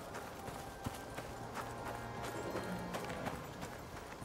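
Horse hooves clopping in the survival video game Icarus, a quick run of soft hoofbeats set under a low, faint game soundscape.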